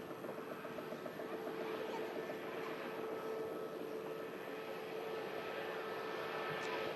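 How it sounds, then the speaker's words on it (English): An aircraft approaching Manchester Airport makes a faint, distant, steady engine drone and rumble that holds level throughout the outdoor scene, with no one speaking. "Another aircraft on approach as well."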